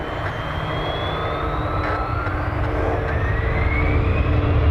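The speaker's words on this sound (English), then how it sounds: "Here's the King Air." A Beechcraft King Air, inbound from Waterloo, passes as a steady broadband engine roar that slowly swells and grows louder over several seconds, with no voices.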